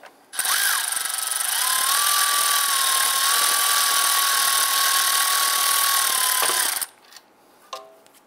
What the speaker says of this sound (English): Now with those bolts removed, go ahead and pull that out.